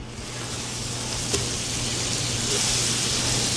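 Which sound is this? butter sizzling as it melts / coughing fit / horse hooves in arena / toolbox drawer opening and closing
butter sizzling as it melts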